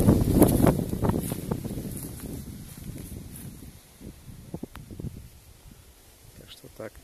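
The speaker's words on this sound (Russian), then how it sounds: "Ветрено сегодня." Wind gusts through leaves and willows outdoors near fields, a steady airy rush loudest at the start, fading to quieter rustling with a few faint knocks.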